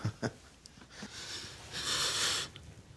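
A newborn baby girl breathes close by, with soft sniffly wheezes and a longer breathy rush near the end, quiet and with no talking.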